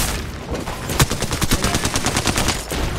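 Rapid automatic gunfire in a video game, a loud dense string of shots fired in quick succession for a few seconds, with no talk over it.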